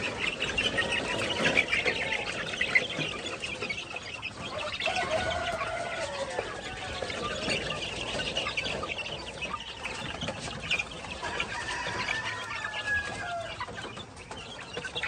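A flock of chicks and chickens clucks and cheeps continuously during dry feeding, many overlapping calls close by at a steady level, with occasional faint talk.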